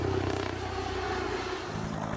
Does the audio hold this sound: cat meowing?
no